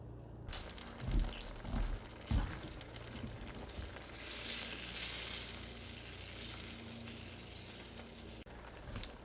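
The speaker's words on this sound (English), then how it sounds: "Now we're going to let this get to a simmer" Shrimp scampi sauce simmers in a pan, giving off a steady broadband sizzle and bubbling that holds throughout, with a few louder stirring clunks near the start.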